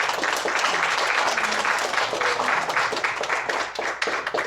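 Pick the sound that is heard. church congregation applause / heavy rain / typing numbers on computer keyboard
church congregation applause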